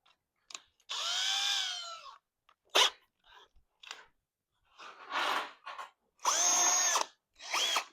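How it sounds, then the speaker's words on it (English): A drill fitted with a wire brush scours metal in several short bursts of varying length with brief pauses between, close and fairly loud, its pitch rising and falling as it works. "Might do a little bit of wire brushing with the drill to kind of get that cleaned up"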